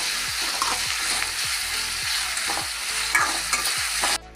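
Beef fries in a pan for a Kerala kizhi porotta filling, with steady loud sizzling under a regular rhythm of stirring scrapes, roughly two strokes a second, close up with no voices.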